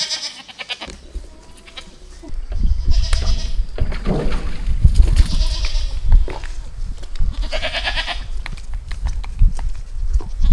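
Goats on a farm bleat loudly and close by, including a two-year-old goat being handled for bathing, with repeated wavering calls over shuffling and knocking movement.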